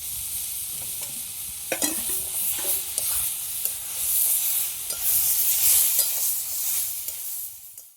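Ginger, garlic and peas roasting in a hot pan, a steady close sizzle with repeated scraping stir strokes and clinks of the spatula throughout, no talking.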